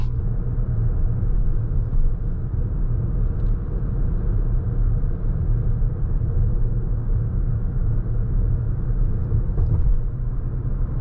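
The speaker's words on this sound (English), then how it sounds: "this test drive of the 2024 Toyota Crown Platinum" Steady low road rumble inside a 2024 Toyota Crown Platinum AWD while driving, an even, continuous cabin drone with engine and tire noise and no talk.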